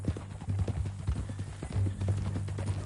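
Horse hooves clip-clop at a steady walking pace in the Western video game Red Dead Redemption 2, with close, rhythmic thuds and faint background ambience.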